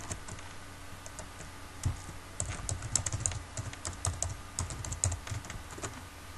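Steady typing on a computer keyboard, close and fairly quiet, with irregular bursts of key clicks while a blog post title is entered.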